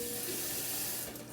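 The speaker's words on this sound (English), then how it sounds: "And then we fill up the licuadora with water." Water from a tap filling a blender jar while making picadillo sauce, a steady, close rushing stream with broadband hiss throughout, no talking.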